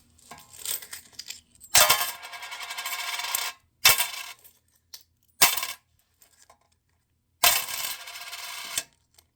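Coins clatter and rattle in loud bursts as they are poured into a toy claw machine, several separate pours of metallic jingling with short silent gaps between.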